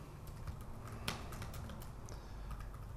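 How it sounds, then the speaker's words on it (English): Typing on a computer keyboard, entering simple sentences: a steady run of light, quick key clicks with one sharper tap, close and fairly quiet over a low room hum. "by typing in some very simple sentences about things happening in the physical world"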